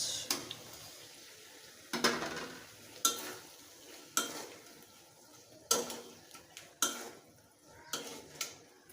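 Rohu fish pieces stirred into cooked-down spice paste in a pan: a sharp spatula scrape roughly every second, each stroke followed by a brief sizzle, close and moderately loud, with no voices.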